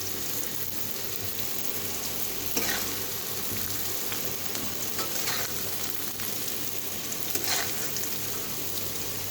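Pieces of sweet pumpkin fry in a pan with a steady, close sizzle, joined by occasional scraping stirs, and no one speaks.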